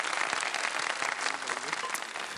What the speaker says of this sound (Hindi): चलो एक दफ़ा तालियां बजा दें